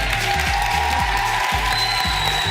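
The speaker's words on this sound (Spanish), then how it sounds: "Un aplauso, Rodri." Applause for Rodri, winner of a science quiz on a televised science truck show, a steady blanket of clapping over looping background music with low rhythmic pulses, moderately loud and continuous.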